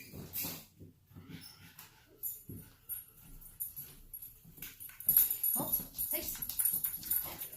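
Pet dogs whimper and whine during a family breakfast in a busy household, soft repeated yelps and whines scattered through the scene with some background activity.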